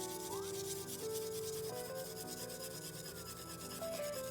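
Pencil rubbed broadly across drawing paper for tonal shading, a steady close scratchy rasp that runs without a break under quiet background music.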